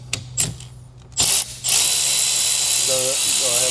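Power ratchet loosening a 15 mm bolt on a Tesla Model Y, a couple of short bursts followed by a sustained loud high whirring spin, close by, with a voice briefly heard near the end.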